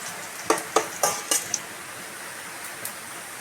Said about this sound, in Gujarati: ડુંગળીને સારી રીતે શેકી લઈશું